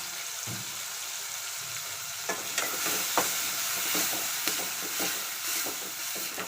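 Turmeric and garam masala sizzle in hot oil as a spice tempering fries in a pan, giving a steady hiss with scraping stirs and light spatters, close and without talk.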